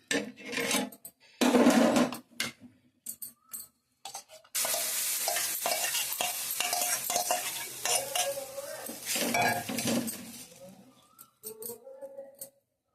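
An omelette fries in oil in a pan, with a steady close sizzle broken by scraping and stirring of a utensil against the pan.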